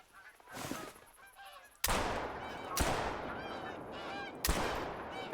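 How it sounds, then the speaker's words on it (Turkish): Five geese honk in the hunting game TheHunter: Call of the Wild, a continuous chorus of calls broken by three loud, sharp gunshots from a powerful gun. "Gördüğünüz gibi 5 tane e, kazımız dizilmiş durumdalar."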